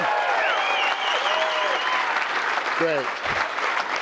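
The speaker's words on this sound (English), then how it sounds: "Big round of applause." Steady applause from an audience at a BMX open house presentation in Gilbert fills the room throughout, with a voice speaking briefly over the clapping near the end.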